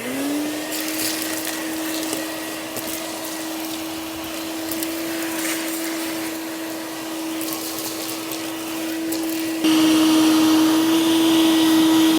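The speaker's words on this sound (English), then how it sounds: "Now for the fun part, which is vacuuming it all out." A vacuum cleaner runs steadily while cleaning out the cab of a long-neglected, filthy truck, its motor whine holding one pitch with a louder, brighter surge near the end.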